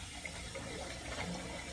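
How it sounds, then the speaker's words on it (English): Water from a newly installed sink tap with a stopper that fails to hold, running and splashing steadily into the basin with no voices. "my sink is just dripping ever so much with that new, the new sink"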